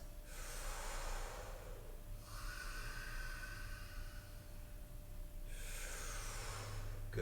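Deep, forceful breaths during a low back workout come through as three slow, airy inhale-exhale bursts. They are heard alone at low level against faint background noise.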